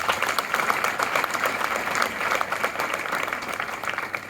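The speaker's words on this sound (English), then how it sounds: "May we give them a round of applause." A congregation at Mass applauds exam candidates being blessed, giving sustained, even clapping from a large group that fills the space at steady loudness.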